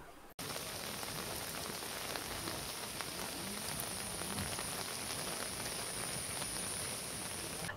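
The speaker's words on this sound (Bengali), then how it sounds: "এখনো ঝিরঝির করে বৃষ্টি পড়ছে" Light drizzle patters steadily on surfaces at a resort near Susunia hill, a soft continuous hiss of fine raindrops with no voices, constant from start to finish.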